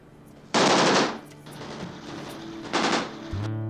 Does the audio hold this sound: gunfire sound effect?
yes